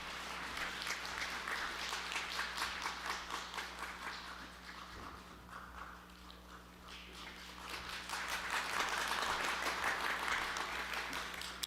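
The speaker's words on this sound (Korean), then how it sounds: "우리 박수로 한번 격려해 주시기 바랍니다." A church congregation claps during a Sunday service, the applause quiet and somewhat distant over a steady low electrical hum, dipping midway before picking up again more strongly toward the end.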